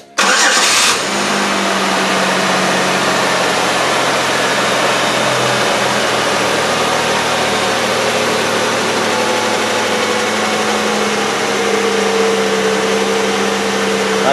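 A 2003 Chevrolet Impala engine cranks briefly, catches and settles into a steady, loud idle that runs on unchanged to the end, with no voices.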